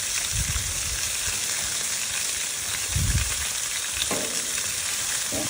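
Buffalo blue cheese and mushroom Swiss smash burgers sizzle on a Blackstone griddle, a loud constant crackling hiss with a few scraping thumps from a spatula moving the patties, close by and uninterrupted by talk.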